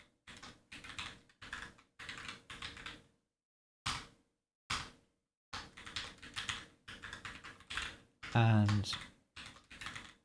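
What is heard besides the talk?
computer keyboard typing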